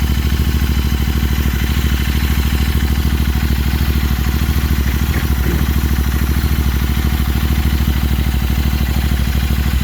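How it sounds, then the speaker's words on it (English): A Royal Enfield Continental GT 650 motorcycle with a Red Rooster exhaust idles loudly and steadily up close, its twin engine pulsing evenly as it warms up, with no voices over it. "let me warm it up for a few seconds, and then I'll rev the motor up a little bit"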